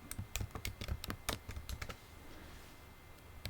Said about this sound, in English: To do this, start typing the step,